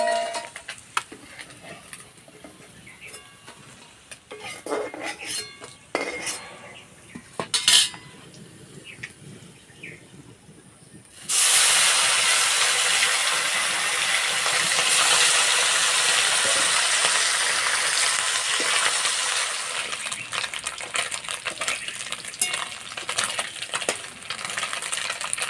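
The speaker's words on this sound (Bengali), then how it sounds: "আর এই মাছ একদম লাল লাল মুচমুচে করে ভেজে নিতে হবে।" Fish frying in hot oil until red and crispy: a few scattered clicks and clinks, then a loud, steady, dense sizzle that bursts in partway through and holds to the end, with no voices.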